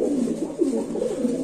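Pigeons coo softly at a pigeon market, a continuous layered murmur of throaty calls repeating in quick succession with no voices over them.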